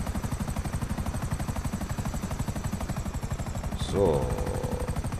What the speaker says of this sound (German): da ist hinter mir ein Hubschrauber